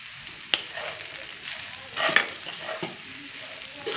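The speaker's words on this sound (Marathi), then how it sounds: "आपल्याला अशा प्रकारे छान तेलामध्ये बटाट्यामध्ये मिक्स करून घ्यायचं आहे" Sabudana khichdi with potatoes is stirred in hot oil in an iron pan, giving a continuous close sizzle broken by a few sharp scraping strokes of the spoon.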